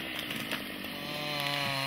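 A chainsaw running steadily at close range through a short stretch, its engine pitch shifting slightly near the end, with no voices heard.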